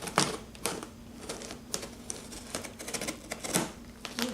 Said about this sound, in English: And gently slice kind of the top of the tape there in the box.